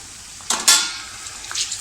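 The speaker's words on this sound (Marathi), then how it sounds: "आता आपण त्याच्यामध्ये टॅमॅटो टाकूया" Tomatoes tipped into a hot pan of well-fried onions for dhaba-style chicken lapeta set off two sharp, close sizzling bursts, which then fade to a low crackle with a faint clink of a utensil.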